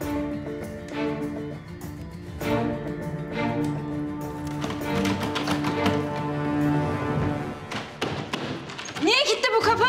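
Someone bangs on a locked door in repeated heavy thuds of uneven rhythm, growing louder toward the end, with voices speaking over them.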